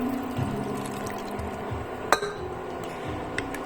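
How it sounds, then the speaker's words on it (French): A litre of water poured into a pot of sambar dal, a steady watery trickle and splash close by, with a sharp clink of a container against the pot partway through. "on rajoute les 1 litre d'eau"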